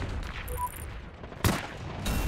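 Gunfire in the World War II shooter game Heroes & Generals, a couple of sharp distant shots amid quiet game ambience, with one louder crack near the middle and another at the end.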